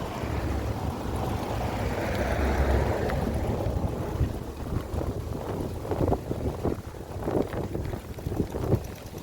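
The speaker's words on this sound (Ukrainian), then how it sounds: "У нас сьогодні вітряно." Steady storm wind rumbles and gusts across the microphone outdoors in a Dutch village, with a low continuous roar and no voices.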